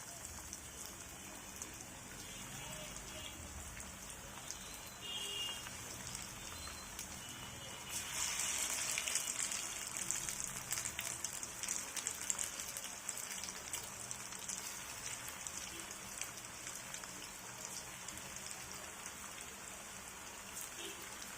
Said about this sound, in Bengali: তেলটা গরম হয়ে আসছে, এখন আমি এর ভিতরে ফুলকপিগুলো এক এক করে দিয়ে দিচ্ছি।